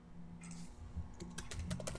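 Computer keyboard typing in a short burst of a few quick keystrokes, close and fairly quiet, with no voices.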